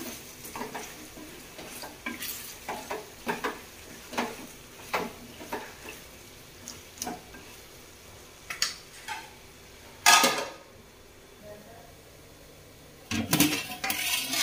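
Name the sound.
stirring chicken pulao in a pot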